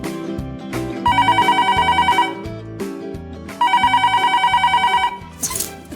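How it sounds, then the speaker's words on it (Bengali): A telephone bell rings in two long electronic bursts separated by a short pause, loud and close, with a few other tones around it. "এখন আমার ফোন এসছে"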